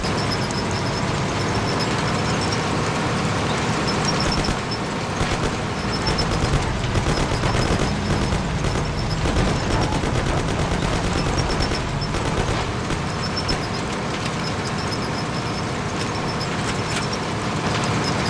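Sustained gunfire in a Mafia shootout, dense overlapping shots and rattling bursts continuing throughout amid loud ambient game noise, with no talk.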